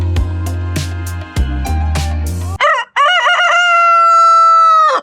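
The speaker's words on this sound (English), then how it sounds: "Even the chickens have come to give us some moral support." Chickens on a farm in Portugal cluck in short, sharp bursts over a low background hum, close to the listener. A rooster then lets out a loud, drawn-out crow that ends the sequence.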